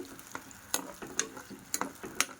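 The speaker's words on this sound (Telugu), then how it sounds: "సో ఇలా బాగా మనం కలుపుకోవాలి, మిక్స్ చేసుకోవాలి." Raw turmeric stew being stirred in a pot, with several soft scraping strokes and a low simmering sizzle underneath, fairly quiet and close.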